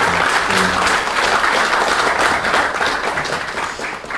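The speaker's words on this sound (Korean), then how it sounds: "박수 한번 일단 보내주시기 바라겠습니다" At a development forum, an audience applauds with a dense, steady clatter of hands that thins slightly near the end.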